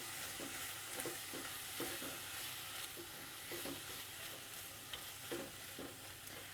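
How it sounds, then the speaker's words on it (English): Green onions sizzling in a hot pan while being stirred, a soft continuous frying hiss with rhythmic scraping strokes, fairly quiet and close, no voices. "So I'm going to pop them all in the pan. Give it a little stir."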